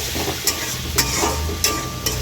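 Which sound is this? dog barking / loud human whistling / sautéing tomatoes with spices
sautéing tomatoes with spices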